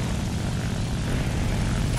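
Aircraft engines drone overhead in the tank battle game War Thunder, a loud, continuous propeller roar that fills the scene without letup.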